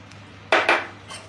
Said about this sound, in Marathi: आता परतून घ्यायचं आहे पूर्ण दूध खोबऱ्यामध्ये मिक्स करून घ्यायचं आहे